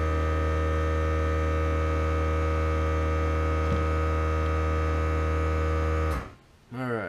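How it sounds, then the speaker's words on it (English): A steady electric hum from an airbrush air compressor runs loud and continuous for about six seconds, then cuts off abruptly, leaving a brief lower rumble before quiet. "you know that compressor like will kick on when I start"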